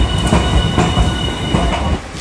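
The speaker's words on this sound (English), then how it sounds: "On the streetcar." A streetcar in Japan rolls along its rails with a continuous rumbling, rhythmic clacks and a faint high whine, heard from inside the car.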